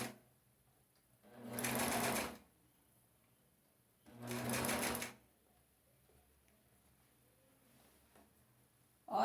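A sewing machine runs in two separate bursts while stitching a skirt, backstitching in reverse, each run lasting about a second with quiet pauses between.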